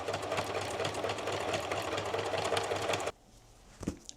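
A sewing machine stitches black fabric in a fast, steady, close whir for about three seconds, then stops abruptly, leaving quiet room tone and a faint knock.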